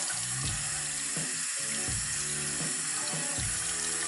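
Running tap water pours into a sink as a makeup brush is rinsed, a continuous close splashing stream with some soft gurgling underneath and no voices.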